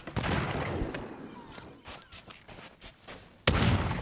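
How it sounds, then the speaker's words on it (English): Gunfire in the pirate video game Sea of Thieves comes as sharp, booming reports, one at the start and another near the end, with quieter scattered thuds and ambience between them. "Oh, I just heard the gunshots."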